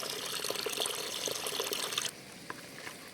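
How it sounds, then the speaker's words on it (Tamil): Water pours steadily into a bucket holding groundnut cake and neem cake, a close, continuous splashing stream for about two seconds that then cuts off, leaving faint drips. "4 லிட்டர் தண்ணி அதில் ஊற்றிக்கலாம்."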